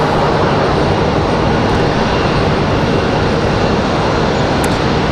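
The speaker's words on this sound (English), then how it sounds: "Got JetBlue touching down." A JetBlue airliner touches down at Raleigh-Durham airport, its engines producing a loud, steady, broadband roar that holds level throughout with no voices.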